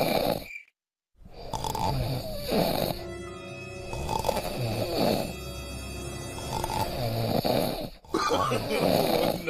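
A person asleep on a phone call snores in repeated loud, rasping breaths with short pauses between them, close to the microphone.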